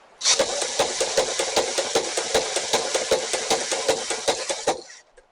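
A homemade Pi Mini machine driven by a cordless screwdriver starts up abruptly and runs at a steady high whir with a rapid, regular clicking knock, close and loud, then cuts off after about five seconds.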